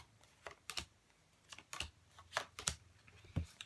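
Tarot cards being shuffled by hand, heard as soft scattered taps and flicks spaced irregularly over a few seconds, faint and close, with no talking.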